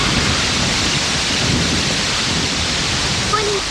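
Heavy rain pouring in a steady, loud, dense roar as a storm breaks, with low thunder rumbling underneath throughout, no voices.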